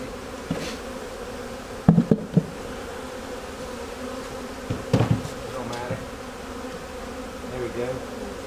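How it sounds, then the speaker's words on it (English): A bee colony exposed during a removal, a dense continuous buzz of many bees close by, with occasional knocks and thumps from the work. "Wow, we got a lot of bees in this."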